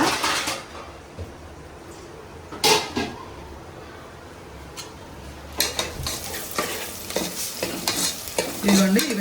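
Ingredients fry in a pan while being stirred, with a continuous sizzle broken by repeated scraping and clattering stir strokes against the pan, close and fairly loud.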